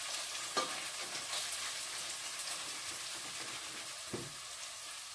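Sofrito frying in a pan, giving a steady, fairly quiet hiss and crackle with a couple of brief utensil taps.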